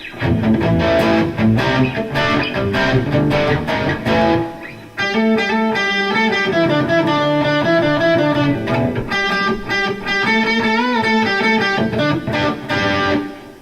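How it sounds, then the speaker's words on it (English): Crunchy, overdriven electric guitar chords from a Gibson SG through a Boss Katana 100-watt amp ring out loudly, then shift into sustained distorted lead notes that carry steadily to the end. "Let's try and see if we can add some crunch with that."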